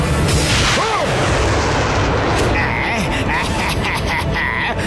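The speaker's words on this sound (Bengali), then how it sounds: "মিসাইল ফায়ার করো।" Cartoon missile fire bursts out in a loud rush, with a whooshing launch followed by booming blasts and crackling explosion noise, dense and close, accompanied by brief animated voices and music.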